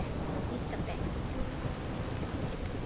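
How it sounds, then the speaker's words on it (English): A thunderstorm with steady rain rolls through the Submerged game world, a dense hiss of rainfall under a continuous low rumble of thunder, loud and unbroken throughout. "There's a storm coming"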